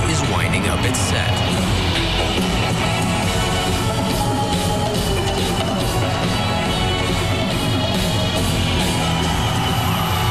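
A large concert crowd roars with continuous yelling, whooping and cheering, loud and dense throughout, with voices talking over it.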